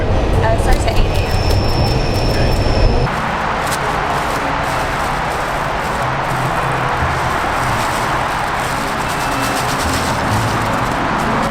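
Steady, loud rumble and rushing noise fill the interior of a moving train carrying riders heading to a cycling event, with faint rail squeal early on and no pauses.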